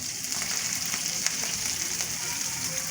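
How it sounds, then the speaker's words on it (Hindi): Fenugreek seeds fry in a little oil in a frying pan over low heat, giving a steady, close hiss of sizzling with faint crackles and scattered pops throughout, alone without any voices. "इसमें थोड़ा सा ऑयल डाला और इसमें मैं थोड़ी सी मेथी डाल के फ्राई करूँगा"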